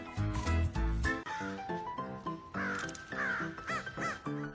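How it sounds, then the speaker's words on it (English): Crows caw repeatedly in harsh, drawn-out calls, several loud cries following one another close by with a heavy thump at the start. "Don't follow the crows."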